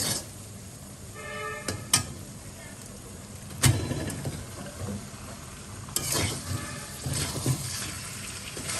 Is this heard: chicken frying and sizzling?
yes